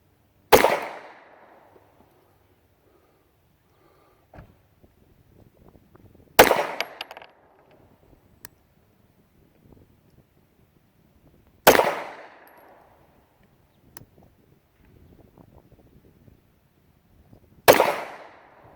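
Four sharp, loud handgun shots from a Ruger American 9 fired off a monopod, spaced about five to six seconds apart, each followed by a short ringing decay, with faint handling noises in between.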